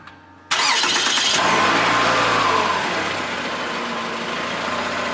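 A 2015 Toyota Venza engine cranks and catches after a brief quiet moment, flaring loudly before settling into a steady idle close by.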